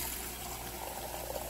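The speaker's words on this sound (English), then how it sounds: "Fill your coffee mug with about 2 inches of water." Water trickles and splashes as it is poured into a coffee mug, a short close steady stream with a faintly rising liquid tone.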